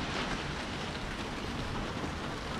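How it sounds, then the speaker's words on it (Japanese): Sudden heavy rain falling at night in Thailand, a steady dense hiss of downpour with no pauses, close and fairly loud, no talking. "初めてタイに来て初めて雨が降ってきた。"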